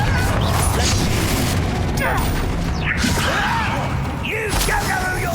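A Confringo fire spell in Hogwarts Legacy erupts amid ongoing combat, with whooshing casts and dull booming blasts layered over busy game noise and effects.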